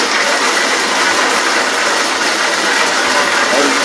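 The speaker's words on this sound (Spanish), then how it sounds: "Los hermanos están soldando." A steady, loud crackling hiss from welding on a church expansion construction site runs without pause, close and even.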